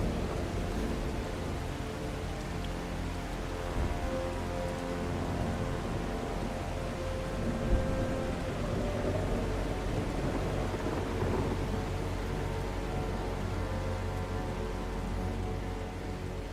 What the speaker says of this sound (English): the sun just comes up and a rainstorm comes in